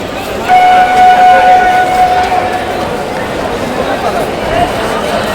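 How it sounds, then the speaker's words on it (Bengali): A packed commuter train at Kalyani station on a festival outing, with a steady horn or whistle tone holding for about two seconds over a constant roar of crowd noise and voices. "এই ট্রেনটা কিন্তু যাবে এই ট্রেনে কিন্তু আমরা উঠবো"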